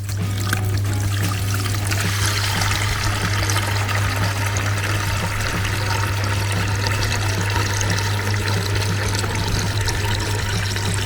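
Continuous rush of water pumped through a hose by a Dnipro-M drainage pump, alongside a constant low motor hum, steady and unchanging throughout.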